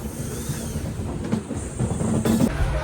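A passenger train rounding a curve near Pamban Bridge, a steady rumbling roll with hissing and faint wheel clatter throughout, swelling slightly louder toward the end, heard from on board.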